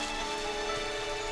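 Monsoon rain falls steadily on a tropical island, a dense, even hiss of drops that stays constant through the short stretch with no voices.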